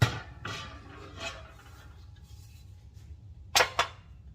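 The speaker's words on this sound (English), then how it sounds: "So what you do is you take the top off," Lid being lifted off a PK grill used with a motorhome: two sharp metallic knocks close together near the end, after a few softer scrapes and bumps, fairly quiet overall with no talking.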